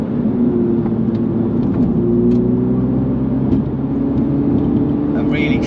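A Mini GP3 hatchback's engine revs steadily under load while driving on a smooth British B road, a continuous close droning note with shifting pitch and road rumble throughout, without talk.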